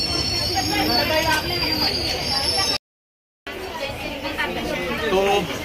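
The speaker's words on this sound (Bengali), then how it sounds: "এই সে বিখ্যাত ট্রেন।" A late intercity express train passes a station crossing, its wheels squealing and rumbling loudly and close, with a brief dropout in the middle and crowd chatter underneath.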